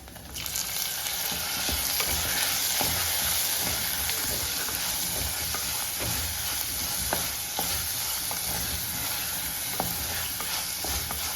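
Tomatoes fry with sautéed onions in a pan for a Kerala-style tomato curd dish, a steady close sizzle and hiss with light scattered stirring clicks throughout, no voices.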